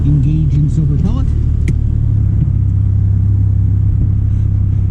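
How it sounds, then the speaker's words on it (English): A car engine idles with a steady low rumble close by, as if heard from inside the vehicle, while a voice talks briefly over it at the start. "You hear like a big drain on the engine when you turn on too many items at once"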